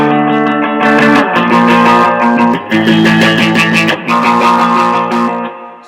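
A distorted electric guitar plays the rhythm part of a song, loud, sustained power chords shifting between positions with short picked accents, alone with no talking.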